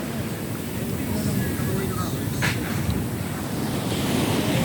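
Sea waves wash continuously onto the shore, a constant broad surf roar mixed with wind buffeting the microphone, with a brief swell of splash midway.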